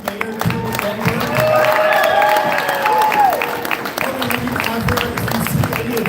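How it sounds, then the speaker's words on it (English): An audience at a city centennial painting unveiling claps for the mayor, a steady roar of applause with a few cheers, while voices and tonal sounds carry over the top throughout. "Let's give a big round of applause for our amazing mayor, Eric Dowdle."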